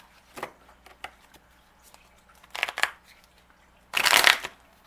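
Love oracle cards being shuffled by hand, with a few soft riffling bursts and slaps, close and quiet, the last burst the loudest, with no one speaking.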